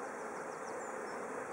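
Honeybees hum steadily and densely on a hive frame carrying brood and the queen, a close, continuous buzz with a few higher whining passes drifting over it.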